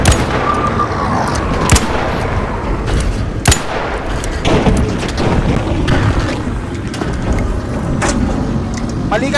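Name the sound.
gunfire in the video game ARC Raiders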